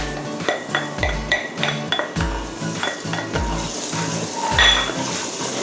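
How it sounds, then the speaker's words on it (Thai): Metal utensil scrapes and clanks rhythmically against a wok while stir-frying minced garlic in soybean oil, with a faint sizzle of frying underneath, steady repeated stirring strokes. "ตอนนี้เราก็จะผัดนะคะให้กระเทียมเริ่มส่งกลิ่นหอมซะก่อนค่ะ"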